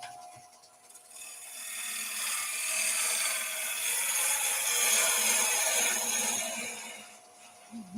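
A freshly sharpened 6mm (1/4 inch) bowl gouge cuts wood on a lathe, a close, continuous rasping hiss that swells and holds for several seconds before easing off.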